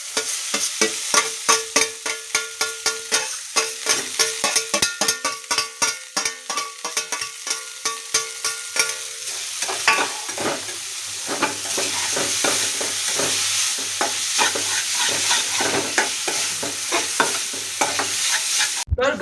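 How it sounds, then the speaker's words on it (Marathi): Noodles hit a hot pan and are stir-fried with a paste, a close rhythmic scraping of the utensil against the pan over steady sizzling that swells into a louder continuous fry; nobody speaks. "आता आपण टाकूया आपले नूडल्स."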